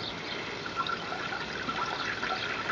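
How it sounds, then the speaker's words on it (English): Water draining out of an expandable garden hose into a shower, a soft continuous trickle and gurgle with small splashy swells, faint and steady, no talking. "simply drain the water out via the shower, because that's the fastest"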